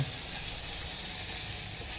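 Green chillies sizzling in hot oil during tempering for a home-cooked meal, a steady, close, continuous hiss and crackle with no voices.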